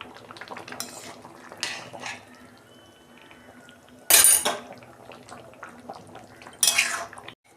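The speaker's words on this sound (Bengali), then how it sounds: "এই যে 1 চামচ আমি ঘি দিচ্ছি।" A spoon clinks against a pot as ghee goes into simmering vegetarian shukto, several sharp metallic scrapes and taps between soft bubbling, close and intermittent, without talk.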